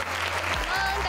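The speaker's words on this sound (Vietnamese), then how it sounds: "vỗ tay thật lớn, chúng ta cùng tôi xem nào." Loud applause fills the space from a studio audience at a Vietnamese children's football talent show, steady and dense throughout with a low hum underneath.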